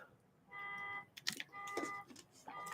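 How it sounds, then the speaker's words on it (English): An electronic alarm sounds in repeated steady beeping tones, faint and somewhat distant, broken by brief knocks and rustles. "There's an alarm going off."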